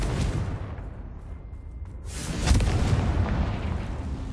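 A fiery Confringo spell blast in the video game Hogwarts Legacy, a loud booming explosion with a deep rumbling roar that swells and lingers for several seconds.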